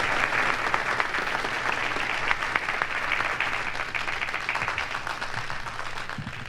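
Sustained audience applause at a 1960s Redd Foxx live comedy show in Las Vegas, a dense, steady wash of many hands clapping at even loudness throughout.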